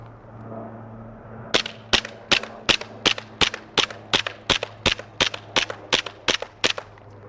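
An EMG Hudson H9 green gas blowback airsoft pistol fires about sixteen sharp, evenly spaced cracking shots at a steady rhythm on a 25-foot pistol range, loud and close with no talking.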